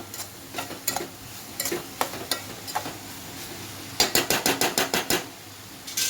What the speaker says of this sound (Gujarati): તરત જ તમારે જે સોયાબીનની વડી છે તે આમાં ઉમેરી દેવાની છે ને હવે આને થોડીક વાર થવા દેવાનું છે